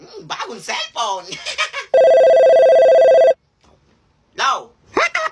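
A mobile phone rings loudly for about a second and a half with a steady electronic trill, framed by excited talking before and after.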